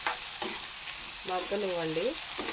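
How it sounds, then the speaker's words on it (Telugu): Tomatoes sizzle steadily in hot oil in a pan for a sour mango curry, with a few soft scrapes of stirring breaking through the frying hiss. "టమోటాలు కూడా వేసి కలిపెట్టేసి బాగా మగ్గనివ్వండి ఫ్రెండ్స్"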